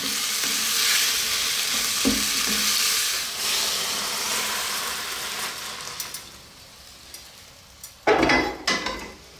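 Beef and broccoli stir-frying over high heat, a steady loud sizzle with scraping stirs, fading quieter toward the end, then a few sharp clanks of a utensil against the pan.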